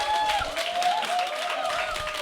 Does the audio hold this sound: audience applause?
yes